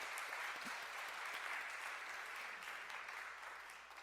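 Church congregation clapping in encouragement during a Sunday service, a dense, even wash of applause in a reverberant hall that tapers off toward the end.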